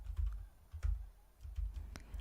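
A few separate key presses on a computer keyboard, including the Korean/English toggle key, make soft, close clicks and thumps spaced out over a couple of seconds, with no one speaking.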